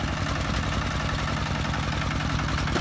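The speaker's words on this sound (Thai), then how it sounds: "นี่เราพามาชมรถไถดัดแปลงครับเป็น ญาติเดินตามมาเป็นรถไถนั่งขับครับ" A modified ride-on farm tractor, converted from a walk-behind tiller, idles with a steady low, throbbing engine rumble, close and continuous with no talk.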